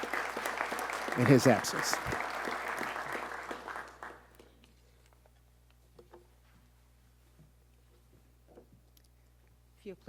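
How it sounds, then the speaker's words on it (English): Audience applause at a police promotions ceremony, a burst of clapping for about four seconds before fading into near silence, with a voice speaking over it. "Give him a round of applause"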